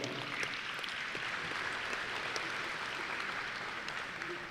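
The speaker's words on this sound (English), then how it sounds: "All right, let's give Troy a round of applause." Audience applause at a Texas Department of Transportation safety banquet, a dense, steady wash of many hands clapping that holds at an even level for the whole stretch.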